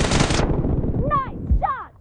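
M416 assault rifle fire in the PUBG Mobile video game, with a loud close burst of rapid automatic shots followed by a few heavier single reports and their ringing tails, all within two seconds.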